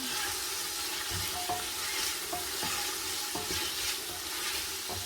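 Pasta being stirred with a spoon in a sizzling frying pan, a continuous close frying hiss with soft scrapes and small knocks against the pan.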